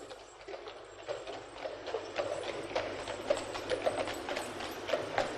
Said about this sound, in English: Listen, the sound of horses in the busy streets of London.